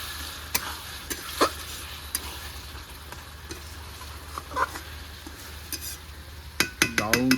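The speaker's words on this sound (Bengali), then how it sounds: "আলু কিছুক্ষণ গ্রেভির সঙ্গে কষে দেবো ভালো করে" Potatoes sautéed in golda prawn gravy, a steady soft sizzle with scattered scrapes and taps of a spatula against the pan, ending in a quick cluster of louder metallic knocks, no voices.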